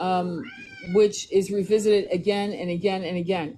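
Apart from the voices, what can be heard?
cat meowing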